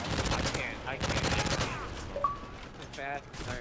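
Type 95 rifle firing in a first-person shooter video game, quick bursts of gunfire mixed with game effects under a player's ongoing commentary.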